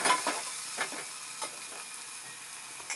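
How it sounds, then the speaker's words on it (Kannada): Onions stirred and fried in oil in a pan, a close steady sizzle with a few soft stirring scrapes. "ಈರುಳ್ಳಿ ಕೂಡ ಹಾಕಿ ಮಿಕ್ಸ್ ಮಾಡ್ತಾ ಇದ್ದೀನಿ ನೋಡಿ ನಾನು"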